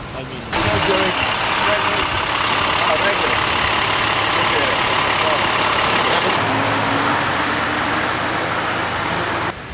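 A pickup truck engine idles outdoors in icy weather near a high school, giving a loud, steady rumble mixed with broad noise that runs unbroken for several seconds.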